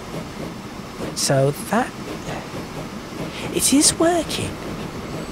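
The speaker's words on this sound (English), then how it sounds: "this train will be on its way out just as that train emerges from the tunnel" Trains rumble along rails in the Transport Fever 2 video game, a low steady rolling sound with faint clatter running under someone talking throughout.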